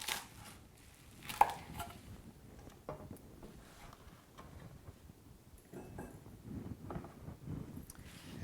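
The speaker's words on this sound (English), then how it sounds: "I'm going to remove the stem." A knife cuts the stems from kale on a board, with a few faint, scattered chopping taps in a quiet kitchen.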